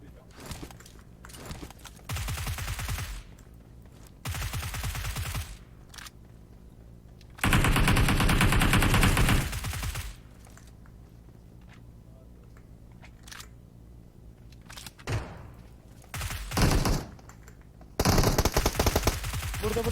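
Gunfire in a multiplayer shooter video game with an MK 14 rifle: loud bursts of rapid automatic fire break out repeatedly between quieter gaps, with some faint voice chat in the background.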